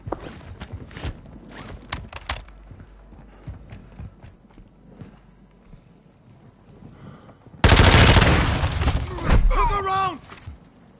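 Akimbo revolvers fire in rapid bursts during a Warzone match, sharp cracks scattered amid game noise and footsteps, followed by a loud dense burst of gunfire with a voice talking.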